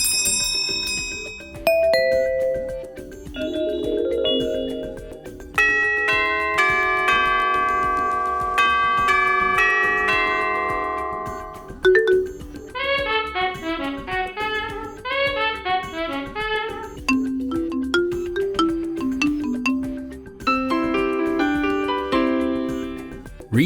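A Honeywell 9 Series wireless portable doorbell plays several of its chime tunes in turn, with clear electronic ding-dong tones and rapid melodic bell runs, loud and close, separated by brief pauses.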